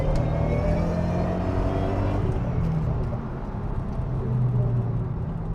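A modified performance car's engine roars steadily under hard acceleration, a continuous low rumble heard from inside the vehicle with no talking.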